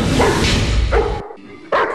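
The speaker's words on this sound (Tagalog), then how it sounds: "Walang magawa kundi tahulan ang maliit na kuting." A large dog barks repeatedly at a small kitten at close range, loud gruff yaps in quick succession with brief gaps between them.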